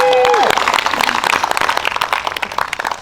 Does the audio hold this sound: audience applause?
yes